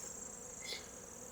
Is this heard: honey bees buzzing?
yes